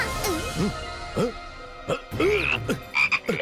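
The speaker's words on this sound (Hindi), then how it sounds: "मैंने मेंढक बनाया है" A cartoon frog croaks in short, bouncy bursts, several distinct croaks in quick irregular succession, close and clear, with brief voices mixed in.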